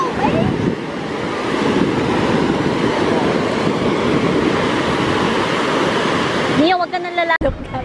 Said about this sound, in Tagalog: Come on, any powerful waves?